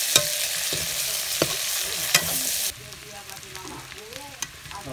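Onions being stirred and fried in a pan for a village-style chicken curry, with a steady hiss of sizzling oil and sharp scraping stir strokes, loud and close, quieter after the midpoint.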